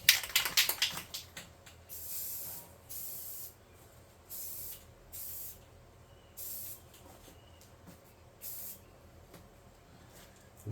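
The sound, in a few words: white spray paint being sprayed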